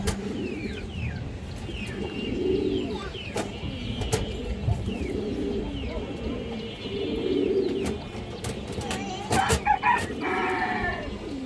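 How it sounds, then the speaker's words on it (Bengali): Pigeons for sale, including high flyers, coo repeatedly nearby while a rooster crows and people talk in the background of a busy bird market. "খুব সুন্দর একটা মাদি কবুতর এই যে দেখেন"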